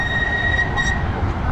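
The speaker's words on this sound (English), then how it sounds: "We've got a tram here too." A tram rolls past on rails on Margaret Island in Budapest with a low rumble and a thin, steady high squeal from the wheels, close and continuous.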